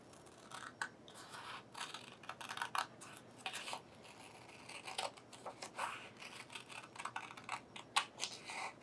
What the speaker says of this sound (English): And when you go to cut your heart, remember to use proper scissor skills.